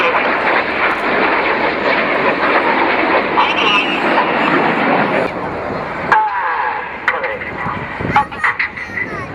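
Red Arrows jets roar loud and sustained overhead during a flying display at the Lowestoft air show, the engine noise holding steady then dropping away, with a commentator talking over it and crowd sounds emerging later.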